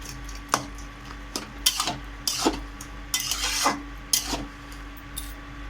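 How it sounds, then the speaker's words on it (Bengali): Potatoes frying in a pan alongside a cabbage curry, heard as bursts of scraping and rasping stirring strokes over a faint sizzle, with quiet gaps between the strokes. "সবশেষে আলুগুলো একটু ভেজে দিচ্ছি।"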